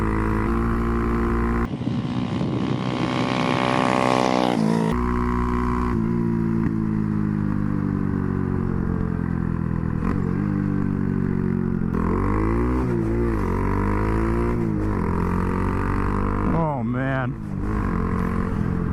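Honda Grom motorcycle with a 402 Innovations carbon fiber exhaust, a loud close engine rising and falling through revs and gear changes, with someone talking over it.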